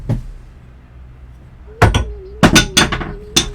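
A hammer in the video game Return to Darkness strikes several times in quick, irregular succession, sharp and loud metallic hits after a quiet stretch.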